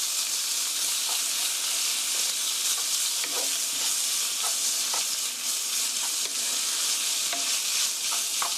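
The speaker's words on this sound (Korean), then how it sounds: "이렇게 고기가 하얗게 될 때까지 볶아주시고요" Meat stir-fried in a pan for curry rice gives a steady, loud, continuous sizzle with occasional scraping stirs throughout, with no talking.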